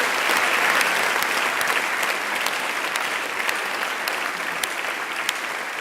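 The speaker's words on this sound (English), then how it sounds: "Congratulations to all the graduates of class 2303. Big round of applause." Sustained applause from a large audience greets the graduates at an Officer Training School ceremony, a steady, dense wash of clapping with no voices over it.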